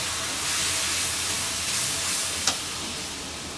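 Onion paste dropped into very hot oil with turmeric, giving a broad, steady steamy hiss with a brief sharp spit midway before it settles.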